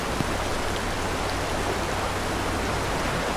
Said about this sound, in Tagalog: Kasi umuulan, malakas na ulan.